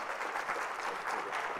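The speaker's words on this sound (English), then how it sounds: "give him a big round of applause" An audience at a 1 Million Cups startup pitch event in Springfield, Missouri breaks into a steady, dense round of applause. It sounds soft and somewhat distant, with no voices over it.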